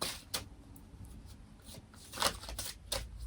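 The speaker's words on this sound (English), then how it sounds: "These cards are long and kind of awkward, so a little difficult to shuffle." Long, awkward tarot cards are shuffled by hand in quick bursts of soft riffling and sliding, with several separate flurries at close range in an otherwise quiet room.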